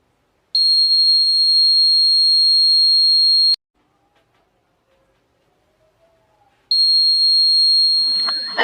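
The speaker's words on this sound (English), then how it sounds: "this is our piezo buzzer alarm" Piezo buzzer alarm on a DIY PIR motion-sensor circuit, a loud piercing steady electronic tone sounding for about three seconds, cutting off to near silence, then starting again with some handling noise at the end.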